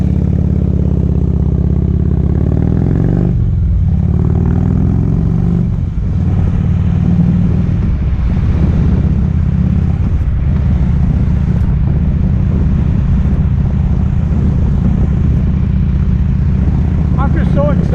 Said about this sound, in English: I'm just so excited about how well this bike runs.